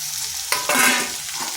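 Pointed gourd pieces fry in hot oil with onion, producing a close, loud sizzle that briefly swells into a sharp hiss midway.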